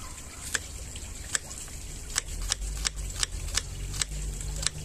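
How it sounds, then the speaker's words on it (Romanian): Onion being finely chopped with a knife on a board, a series of crisp, fairly regular close cuts over low background hiss and hum. "Haideți până vine Mugurel să tăiem și ceapa. De data asta ne trebuie mărunt."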